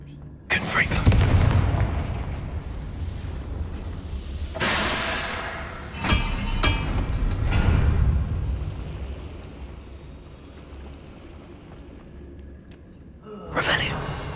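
Fiery blast spells from Hogwarts Legacy combat erupt in several heavy booming bursts, loud and close, with rumbling tails between them and a voice talking over part of the fight.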